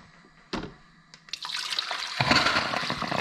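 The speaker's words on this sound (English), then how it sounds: "Let's pour some water in here." Water poured into a coffee maker being repaired for a heating fault: a couple of small knocks, then a close, steady splashing pour that builds and continues to the end.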